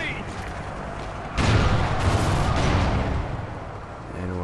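Shotgun fire in the shooter game Call of Duty: Ghosts during multiplayer, a loud sustained burst of gunfire and booms for about two seconds over ongoing game noise, then fading to quieter ambience.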